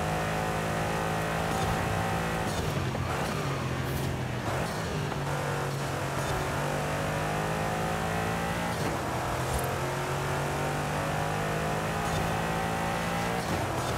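A 2021 Aston Martin DBX engine in Forza Horizon 5 drones loudly and continuously, rising and falling with revs and gear changes as the SUV is driven around a track.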